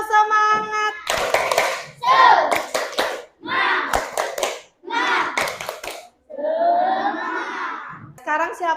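A classroom of schoolchildren claps in short rhythmic bursts of the tepuk semangat routine, the group chanting along between volleys, loud and close with brief pauses between sections.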